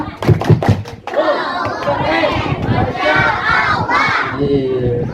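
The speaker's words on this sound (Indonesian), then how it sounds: "Coba tepuk anak soleh soleha." Children at a Maulid celebration clap a sharp rhythmic pattern, then shout a chant together, loud and close, with crowd chatter around them.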